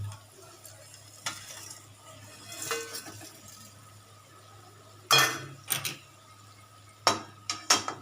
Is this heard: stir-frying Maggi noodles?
yes